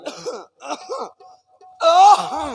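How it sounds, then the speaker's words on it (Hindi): A person clears their throat during a village Ramlila performance, with a few rough, voiced rasps, then a louder drawn-out groaning clearing sound, close and alone. "गला साफ कर रहे थे"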